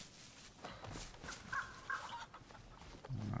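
A chicken clucks in a short series of calls within the survival game DayZ, set over a steady bed of ambient game noise and low rumble.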